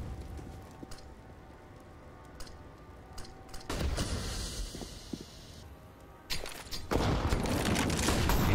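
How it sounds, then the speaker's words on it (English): Grenade blasts and gunfire in a CS:GO pro match between G2 and Vitality on Vertigo, quiet at first, then a sharp burst of noise followed by louder crashing bursts near the end, under faint game ambience. "Apex eats the nade."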